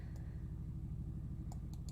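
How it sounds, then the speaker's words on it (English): A helicopter flying overhead, heard as a faint, steady low rotor rumble with a rhythmic beating pulse continuing throughout. "That's a helicopter going over"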